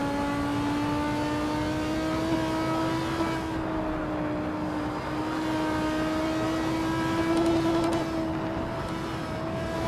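A race car engine in the Gran Turismo video game buzzes against the rev limiter at Bathurst, a sustained high-pitched whine with wavering pitch that holds steady throughout, with no talk over it.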